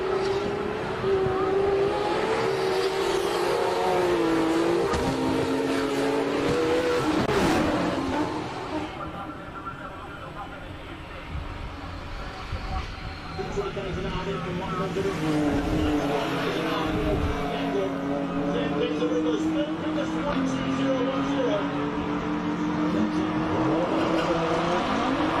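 High-powered race car climbing the hill at the Simola Hillclimb 2023, engine screaming up through the gears with rising pitch sweeps, a brief lift around the middle, then loud hard acceleration again, close and continuous.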